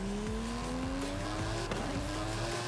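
A 2013 Dodge Viper GTS drives in Forza Horizon 5, its engine revving and rising in pitch through gear changes, with tire squeal and a loud, close, continuous roar, no talking.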